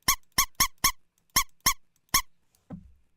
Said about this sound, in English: That little squeak there that you heard was supposed to happen immediately.